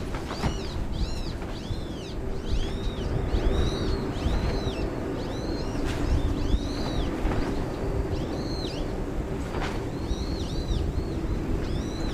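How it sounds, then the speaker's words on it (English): Repeated high, squeaky bird calls like a squeezed rubber toy, sounding in irregular bursts over a steady low rumble of wind and distant aircraft engine noise at Incheon Airport, South Korea. "Some birds that sound like they're squeaky toys."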